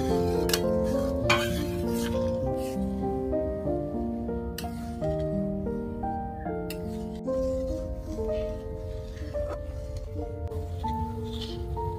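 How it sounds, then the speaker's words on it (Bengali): Fried vegetables, cashews and raisins go into a pot of boiling dal for a Bengali mixed vegetable dal, with steady stirring and light pot sounds running throughout under continuous background music. "এখন আমি ভেজে রাখা সবজি আর কাজু কিশমিশটা দিয়ে দেবো"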